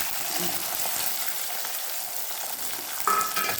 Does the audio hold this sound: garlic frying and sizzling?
yes